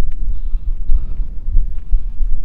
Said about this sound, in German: der Wind kommt jetzt extrem